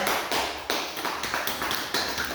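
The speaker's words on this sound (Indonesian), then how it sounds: "kita kasih aplaus untuk kelompok 2" Applause for a student group in a classroom: a burst of clapping with several sharp surges, fairly close and steady, with no talk over it.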